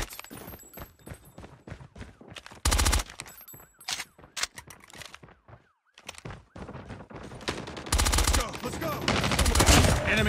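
Call of Duty Mobile multiplayer gunfire, MX9 bursts and single shots cracking close and loud in uneven clusters, with a brief quiet gap midway, then dense automatic fire toward the end.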